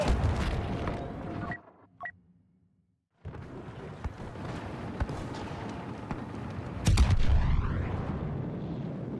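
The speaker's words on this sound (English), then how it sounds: "Charges will detonate momentarily." Demolition charges go off on Jakku during a First Order assault in a Star Wars battle game: loud booming rumble, a brief near-silent pause, then sustained heavy blasting with a sharper burst late on.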